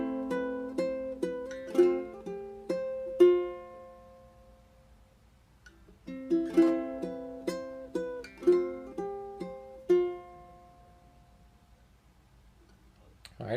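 Opening of a piece picked fingerstyle on a low-G ukulele, with clear plucked notes in two flowing phrases and a short pause between them, played alone at close range.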